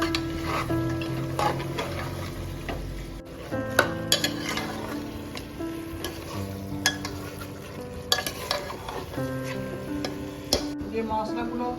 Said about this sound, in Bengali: এরপর মাংসটাকে ভালোভাবে কষাতে হবে